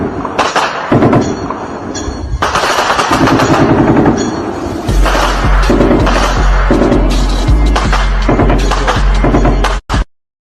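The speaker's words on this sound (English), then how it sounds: "this is the skirmish of the small arms" Small arms gunfire in a military skirmish: rapid bursts of automatic fire and sharp shots, loud and near, continuing for several seconds with brief gaps, under heavy low rumble.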